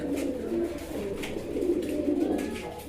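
A Pakistani high flying pigeon at a pigeon seller's coos softly and repeatedly, low and close, over a faint background murmur.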